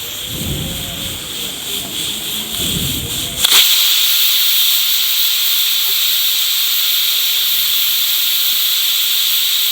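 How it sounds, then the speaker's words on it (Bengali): A pressure cooker of mutton on the stove lets off steam: after a few low knocks, a sudden loud, steady hiss bursts out and keeps going, close and strong. "আর এরপরে উনানে চাপিয়ে একটা সিটি দেবো।"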